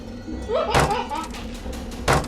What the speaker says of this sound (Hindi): वो आदमी जोर जोर से हमारे दरवाजे को तोड़ने की कोशिश करने लगा